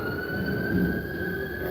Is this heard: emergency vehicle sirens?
yes